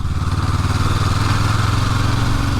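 A 2023 Honda CL500 Scrambler's engine pulls steadily in fourth gear from low speed, a loud, close, continuous throbbing drone with no talk over it.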